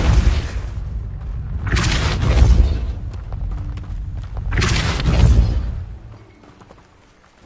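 Two heavy whooshing blasts from the Depulso force spell in Hogwarts Legacy on PS5, each a loud broadband burst a few seconds long with a deep rumble beneath, separated by a quieter stretch and fading near the end.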